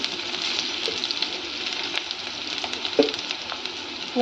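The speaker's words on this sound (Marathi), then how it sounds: "कांदा छान तळू द्यायचा आहे, गोल्डन ब्राऊन होईपर्यंत तळू द्यायचा आहे." Onion frying in hot oil for pav bhaji, a steady close sizzle with occasional faint clinks of stirring and no talk.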